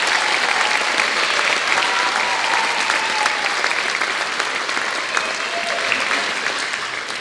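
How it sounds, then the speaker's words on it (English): Sustained applause fills a dance recital hall, a thick wash of many hands clapping at a steady level that eases off only slightly near the end. "So I would like you to applaud all of those wonderful helpers."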